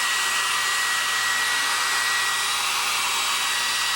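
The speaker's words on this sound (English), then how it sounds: "heat it up with a hair dryer to drive off any additional moisture." A hair dryer blows a steady, loud, continuous whoosh with a thin whine as it heats a phoropter lens wheel to drive off moisture, close and unbroken, with no voices.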